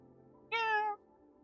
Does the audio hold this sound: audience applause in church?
no